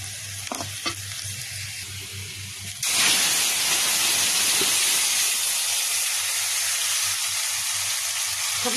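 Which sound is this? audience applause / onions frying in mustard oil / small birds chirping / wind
onions frying in mustard oil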